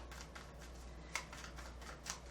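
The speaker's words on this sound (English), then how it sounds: "I do like to shuffle on camera so that you guys can see that I am not just placing the cards" Tarot cards shuffled by hand, a quiet, close run of soft papery riffles and flicks repeating in a steady rhythm, with no talk.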